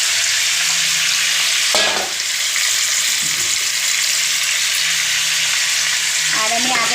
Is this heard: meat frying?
yes